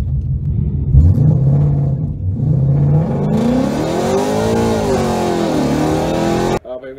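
A 2014 Ford Mustang 5.0 with a 6R80 automatic launches hard, its V8 loud and close as it revs, then pulls up through rising and falling engine sweeps before cutting off abruptly.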